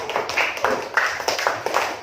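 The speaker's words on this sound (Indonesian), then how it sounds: "Tepuk tangan sekali lagi" A classroom group claps for a student, a sparse, irregular patter of separate hand claps at moderate distance.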